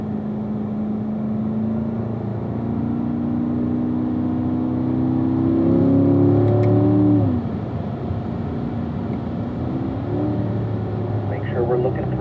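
A Corvette laps a race track at a driving school, its engine droning steadily with a rising rev and a sharper surge midway, then easing off, heard from inside the car with a voice talking over it.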